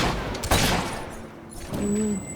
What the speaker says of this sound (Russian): Да, сейчас стреляю уже несколько раз.